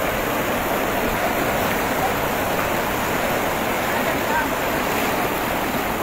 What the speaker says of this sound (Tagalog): Binuksan po konti yung dam mga master. Kaya malakas po yung tubig. Current po ng tubig mga master.